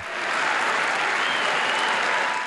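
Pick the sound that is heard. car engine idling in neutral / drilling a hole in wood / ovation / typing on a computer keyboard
ovation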